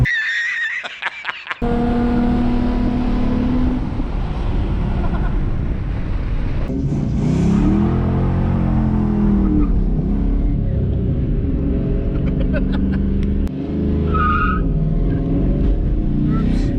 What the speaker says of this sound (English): she's the car you hear echoing off in the distance